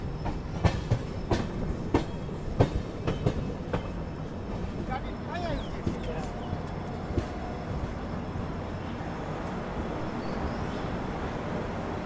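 Clickety-clack of the Somnath Express passenger train rolling on rails, heard from aboard with rhythmic wheel clatter and a steady rumble at moderate level, fading to a smoother hum, with faint voices in the background.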